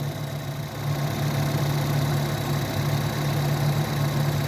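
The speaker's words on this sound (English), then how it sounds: "Okay, with the motor running." A 2014 Ford Escape engine idles steadily nearby, a constant low hum with a faint vibration and no voices.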